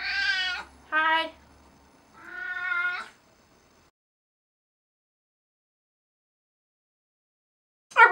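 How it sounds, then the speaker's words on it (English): A cat meows three times in quick succession, close and clear, followed by a long silence and a brief final sound at the very end. "Here comes my cat."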